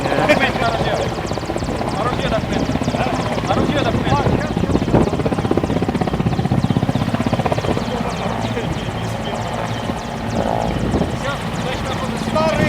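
A helicopter's steady rotor thrum fills the scene, loud and close, while someone speaks over it.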